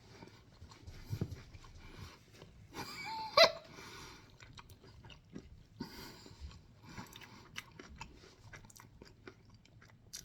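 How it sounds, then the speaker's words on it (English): Someone bites into crunchy breaded, air-fried Kung Pao cauliflower, giving a few close, quiet crunches and chewing noises, with one sharper crunch partway through. "Did y'all hear that crunch?"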